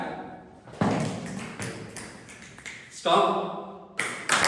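Toastmasters club audience snapping fingers on cue, scattered sharp clicks from many people, fairly close, with a leader's voice calling out between bursts.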